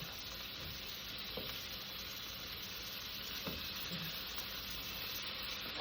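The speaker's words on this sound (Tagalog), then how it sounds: "Ingani ko magluto og spam or luncheon meat." Spam luncheon meat frying in a pan with no added oil, a constant close crackling sizzle with occasional faint pops and scrapes.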